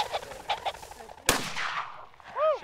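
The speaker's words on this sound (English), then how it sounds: "Josh's mother, Paula, was determined to become comfortable with firing a shotgun" A single sharp shotgun blast during a pheasant hunt outdoors, loud and close, with a rolling echo decaying afterward, preceded by faint chatter and followed by a bird calling.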